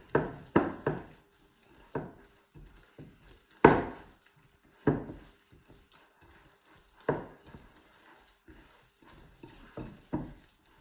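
Sourdough being mixed by hand in a bowl, irregular bursts of thuds, scrapes and knocks against the bowl separated by short quiet gaps, close and fairly loud.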